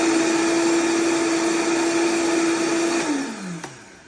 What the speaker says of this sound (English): I'm gonna blend it on high real quick.